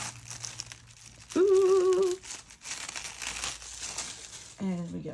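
Die-cut cardstock being peeled off grid paper, producing crinkling and tearing rustles close by, while a person talks and exclaims over them.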